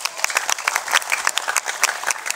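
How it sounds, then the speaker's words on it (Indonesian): Audience applause at an Indonesian Hindu dharma talk in Java: a steady, fairly close patter of many hands clapping throughout, dense and even with no voices breaking through. "Tepuk tangan dulu ini."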